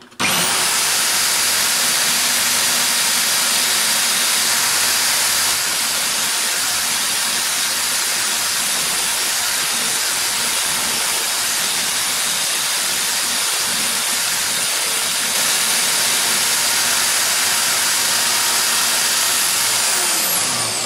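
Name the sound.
wire brushing a metal name plate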